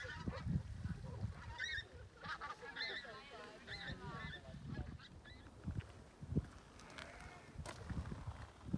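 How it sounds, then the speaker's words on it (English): Geese honk in short repeated bursts at a moderate distance over a caravan site near Castleton in the Peak District, layered over steady outdoor wind and faint background voices. "Some geese up there."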